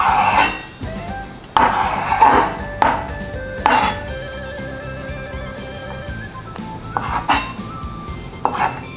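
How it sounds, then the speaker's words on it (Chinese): A knife cuts wheat gluten sausage into small pieces on a board, with several loud, close chopping knocks and clinks, then a steady ringing tone and scattered lighter taps. "也可以先用刀子从中间划开，把整片面肠拉成薄片，再来切成小片状"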